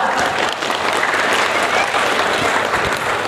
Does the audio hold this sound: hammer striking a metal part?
no